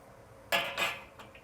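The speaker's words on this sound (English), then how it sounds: "I'm going to take my strainer here, push the beef up, put it on the strainer, scoop it out," Beef being shaken in a metal strainer in a home kitchen, giving two or three short, close metallic clatters and rattles in under a second, then quiet.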